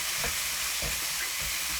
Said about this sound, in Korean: 새송이 버섯을 넣어 1분 볶아주세요